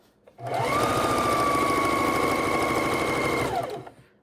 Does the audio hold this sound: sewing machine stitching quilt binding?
yes